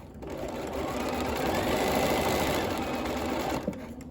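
A sewing machine back tacking across the pleats of a 3D three-pleated cloth face mask: one continuous close whirring run of the motor and needle lasting a few seconds, then stopping with a small clunk.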